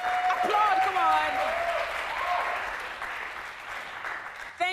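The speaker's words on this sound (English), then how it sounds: "Applaud, come on." Audience applause at a Bible quiz show during a church congress, a steady wash of clapping heard under a raised voice and tonal cheering near the start, gradually easing toward the end.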